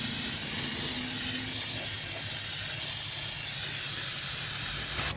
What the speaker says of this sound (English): Spray off your AC pulley and tensioner with brake cleaner